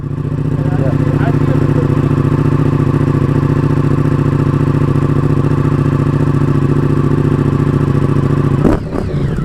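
A sport motorcycle engine idles loud and close with a deep, raspy exhaust note, steady and throbbing throughout, briefly blipping at the end; no voices are heard over it.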